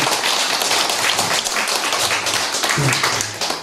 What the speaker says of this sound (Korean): 자, 우리 서로를 위해서 큰 박수 한번 칠까요?